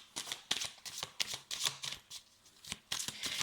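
Tarot cards shuffled by hand in a quiet room, a steady run of soft riffling bursts and flutters repeating about every half second, fairly close with no talking.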